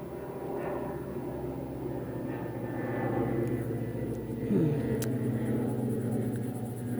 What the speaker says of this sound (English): We have a small airplane flying over.